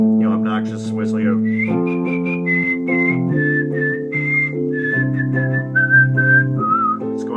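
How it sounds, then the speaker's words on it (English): A melodic whistle carries a song's hook in sustained stepwise notes over steady piano chords and backing, loud and close for the whole stretch with no voices. "obnoxious whistling"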